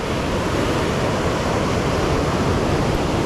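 Big ocean waves churn in a continuous, loud wash of surf, an unbroken roar with no pauses or distinct breaks.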